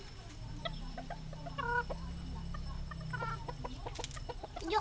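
Chickens offered for sale cluck repeatedly in short, irregular bursts, fairly close, over a steady low background hum, with no talking.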